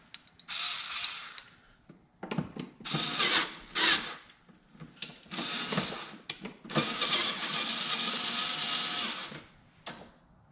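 A power gun whirs and ratchets in bursts during installation of a carbon fiber ZR1 wing on a C7 Corvette, with several loud, close runs separated by short pauses and mechanical clicks.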